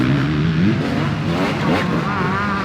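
A 1994 Honda 450 race motorcycle engine revs loudly nearby, its pitch rising and falling through a short burst of throttle with a rough, rasping exhaust note and no speech over it.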